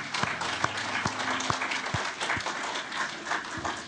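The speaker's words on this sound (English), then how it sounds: "I'd like to ask for a round of applause for our panel." A conference audience gives its panel a soft, steady round of applause. The clapping is fairly distant and continuous, with a few sharper claps standing out, and it lasts only a few seconds.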